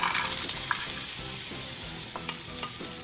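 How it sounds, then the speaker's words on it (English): Vegan ground beef sautéing in a pan, giving a steady close sizzle and frying hiss throughout, broken by a few faint stirring scrapes and clicks, with no talking. "We'll just let this saute for a few minutes"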